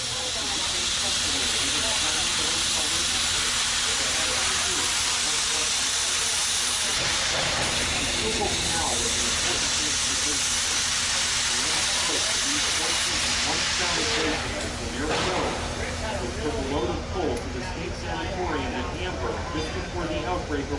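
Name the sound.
steam locomotive 425 wheel slip, steam hissing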